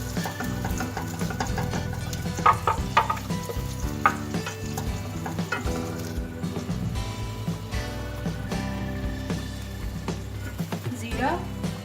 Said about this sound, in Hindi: लहसुन, प्याज, टमाटर और अदरक जो मैंने ग्राइंड किए थे,